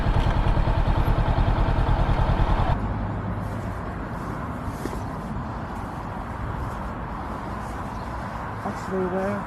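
A motorcycle engine idles with a steady low rumble and clatter, loud at first and then quieter and more muffled after a sudden drop, continuing under light background noise.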